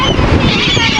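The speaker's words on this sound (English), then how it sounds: "See all the seagulls flying in." Seagulls at a beach call loudly from close by as they fly in overhead, harsh squawks layered over wind noise.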